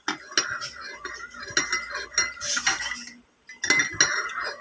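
A metal spoon stirs coffee in a cup, quick bright clinks against the rim in irregular bursts with soft swirling between, pausing briefly before a final run of taps; close and fairly quiet.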